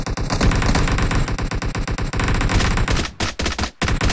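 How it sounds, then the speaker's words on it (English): Sustained automatic gunfire rattles without pause in the PUBG battle royale video game, loud and dense for several seconds before breaking into a few final separate bursts. "And someone's shooting already."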